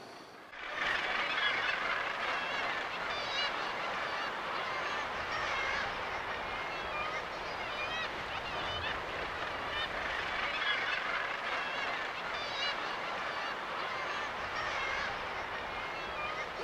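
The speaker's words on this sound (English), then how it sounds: "This cliff here and the cliff round the corner is the main and densest part of the gannet breeding colony." A dense gannet breeding colony on sea cliffs fills the air with a constant, loud wash of overlapping harsh calls, thousands of seabirds clamouring together without pause and no talk over them.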